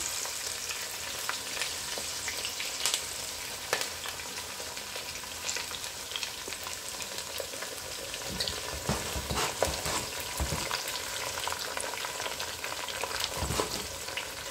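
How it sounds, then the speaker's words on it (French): Onions and garlic cooking in a pot for an oxtail peanut sauce dish, a soft continuous sizzle with occasional stirring knocks and scrapes, quiet and steady, without speech. "Je laisse cuire les oignons et l'ail."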